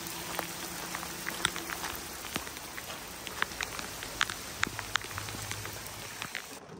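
Rain falls steadily on a hiking trail in a Georgia state park, a soft continuous patter with scattered sharper drops close by, faint overall and with no voices.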